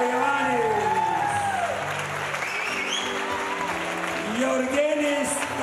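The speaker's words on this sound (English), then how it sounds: "Big applause for Ioannis." Loud audience applause at a Cuban music festival stage in Stuttgart, sustained and dense from start to finish, with cheering and voices mixed through the clapping.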